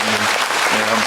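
Congregation clapping together in a Korean church Sunday service, a dense, loud burst of applause throughout, with a voice and faint tones sounding underneath.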